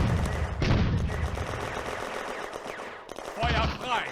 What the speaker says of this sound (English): the panzers are holding in place and suppressing Soviet positions in the village with machine gun and cannon fire